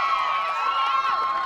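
Crowd cheering and shouting at a high school softball game, a steady, loud wash of many voices lasting the whole moment without a break.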